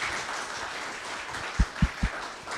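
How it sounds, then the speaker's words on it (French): Audience applause at a talk on travel and grief, rising as a soft, fairly distant patter of many hands, with a few louder close claps near the end and no speech. "On l'applaudit encore"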